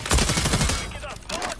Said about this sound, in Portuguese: O cara atirou nele.